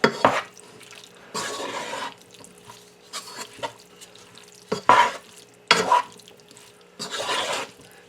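Ground beef being stirred into Rotel noodles in a bowl, heard as several bursts of wet scraping and mixing strokes separated by short quiet gaps, close and moderately loud with no talking.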